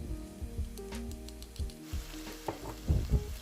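Minced meat frying in a pan with crushed garlic, close crackling sizzle with stirring scrapes and spatula clinks coming in bursts, growing louder toward the end, no talk.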